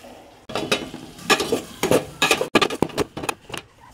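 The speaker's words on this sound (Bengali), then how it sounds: "পেঁয়াজ কুচিগুলো দিয়ে দিলাম।" Chopped onions hit melted butter in a pan and are stirred, producing a close, busy crackle with rhythmic scraping and clinks of a spoon against the pan.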